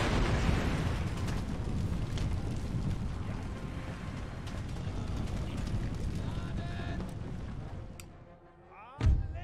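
Cannon and artillery fire rumbles through an Empire: Total War battle, a dense, continuous roar of overlapping booms that drops away briefly near the end before one more sharp blast.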